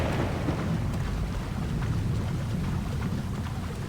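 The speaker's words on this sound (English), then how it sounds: "this has gotta be because of the quest that it's raining like crazy" Heavy rain pours in Assassin's Creed Odyssey, a dense continuous wash with a low rumbling undertone, steady and fairly close, with no voices.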